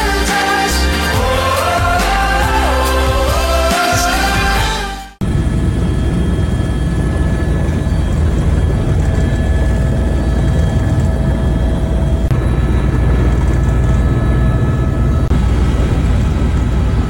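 Helicopter flying over an island on a scenic tour, a steady, loud engine and rotor drone running throughout after a brief burst of music at the start.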